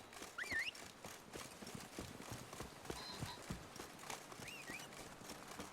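Steady hoof clip-clop of a horse walking in The Witcher 3, a continuous even rhythm over game ambience with brief whinny-like chirps, no talk over it.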